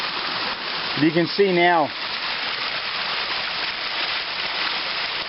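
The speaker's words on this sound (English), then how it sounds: "The rain is slacking off a little bit." Steady rain pours down in a jungle with a constant hiss of water, while someone speaks briefly near the start.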